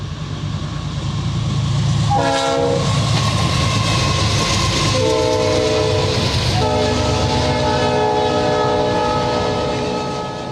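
A train in Alaska rumbles past with loud, repeated horn blasts: one short honk, then two longer sustained blasts over the rolling clatter.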